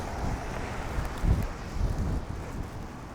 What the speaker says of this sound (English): That is straight into a pretty good wind.